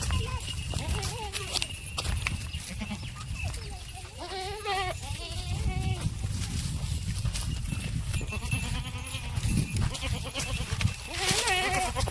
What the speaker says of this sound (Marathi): मंजुळा शेळ्या काय आली माझ्या संग